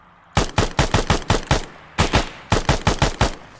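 Rifle fire in the military video game Arma comes in loud, close bursts of rapid shots, a run of about eight, a pause, then two more quick volleys.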